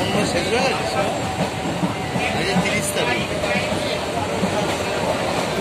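Steady rumble and rattle inside a moving local passenger train running past Masalandapur toward Thakurnagar in West Bengal, with continuous wheel and carriage noise filling the whole stretch and no clear talk over it.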